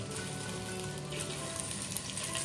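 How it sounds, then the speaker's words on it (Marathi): Okra frying in coconut oil on an iron griddle, a soft, even, continuous sizzle with faint crackles, steady and fairly quiet with no voices. "बघू शकता भेंडी कशी व्यवस्थित भाजायचं चालू आहे."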